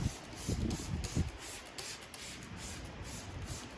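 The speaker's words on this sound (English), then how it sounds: "get a water spray bottle. We're gonna spray the whole headlight." A few quick hissing sprays of water from a spray bottle onto a car headlight, each a short burst, followed by steady low background noise.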